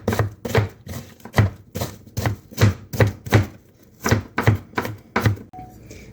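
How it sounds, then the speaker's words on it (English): Knife chopping through a pile of purple and yellow onions on a board, about a dozen sharp, evenly spaced close-up chops, loud and alone. "I'm gonna get all these purple and yellow onions, one last big chop here"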